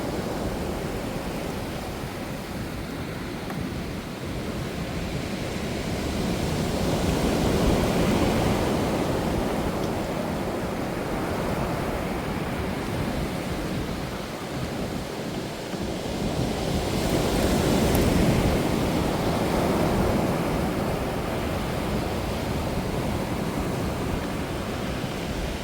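Rough sea waves surge in front of King Munmu's underwater tomb on the coast, a continuous broad roar with slow swells of louder crashing and steady wind noise buffeting the microphone, no voices.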